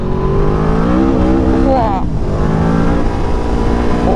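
A modified 200 hp Yamaha V-Max motorcycle engine pulls hard under acceleration, its loud rising drone climbing steadily in pitch, then dropping before building again, with a voice talking over it.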